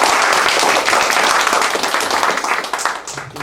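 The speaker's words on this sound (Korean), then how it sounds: "힘찬 박수 부탁합니다" Lively audience applause at a lecture on food waste and resource recycling, a burst of many hands clapping loudly that thins and fades toward the end.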